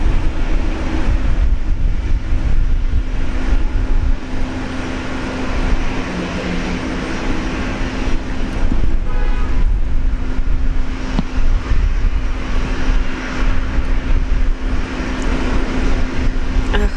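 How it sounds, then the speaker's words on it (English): A Jetstar Airbus A321neo takes off from Brisbane Airport, a loud broad jet roar that rises and wavers over seventeen seconds with a steady drone and gusty rumble, heard alone without talk. "let's go back to the Jetstar A321 going up to Townsville this morning"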